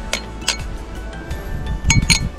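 A few light metallic clinks of spoons ring out sharply, spaced irregularly over a soft background rustle.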